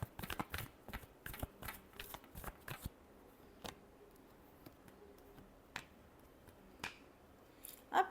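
Tarot cards being shuffled by hand in a quick run of crisp riffling snaps over the first three seconds, then a few scattered card flicks and taps, close and fairly quiet with no talk.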